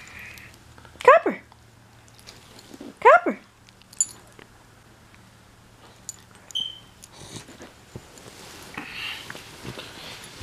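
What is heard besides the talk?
dog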